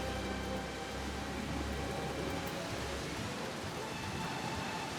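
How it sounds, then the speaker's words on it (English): Rain in the video game Final Fantasy XIV, a dense, steady hiss of falling water with a low rumble underneath, constant and enveloping with no breaks. "And back to the rain."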